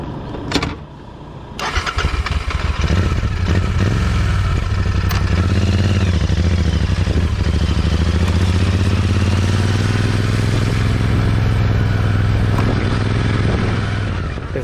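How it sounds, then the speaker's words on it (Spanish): A motorcycle engine runs on a ride in Thailand, a loud, steady low rumble that swells slightly in pitch as it revs, continuous and close. "En algunos momentos se disfruta mucho el sonido de este motor."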